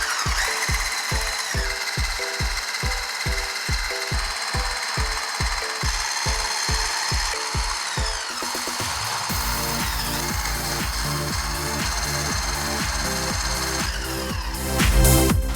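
An 800W Blackline 8222 electric balloon whisk mixer beats egg whites toward stiff peaks, first with a loud rhythmic chugging pulse, then shifting to a higher, denser whir after the speed goes up, continuous and close.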